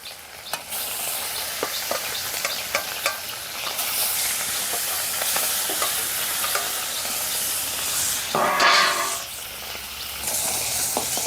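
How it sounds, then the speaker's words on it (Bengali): Shoti fish fry in hot oil with a steady, close sizzle and occasional stirring clinks, then a louder burst of hissing near the end. "বাকি মাছগুলো ভেজে নেবো"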